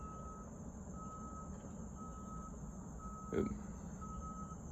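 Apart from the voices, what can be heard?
truck reversing beeps in the distance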